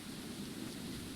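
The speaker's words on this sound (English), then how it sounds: "of course it's raining still" Steady rain in From the Mire, a soft continuous hiss with a low rumble underneath, filling the short moment alone without any voices.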